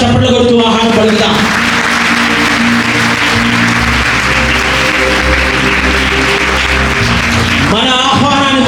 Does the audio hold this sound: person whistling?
no